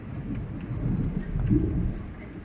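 Steady patter of hail striking surfaces near a window and mango tree, with a low rumbling roar underneath, continuous and moderately loud.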